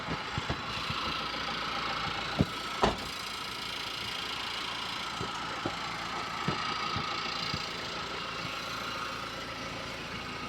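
A 2007 Mahindra Scorpio with an injector diesel engine idles in running condition. It gives a steady, close mechanical drone, broken by a few sharp ticks and knocks.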